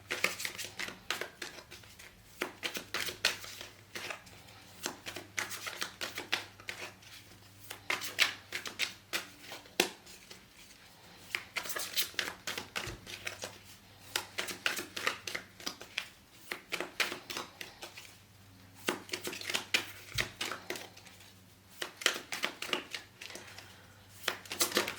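Tarot cards are shuffled by hand close up, in quick papery riffling bursts that come in uneven clusters with short pauses between them.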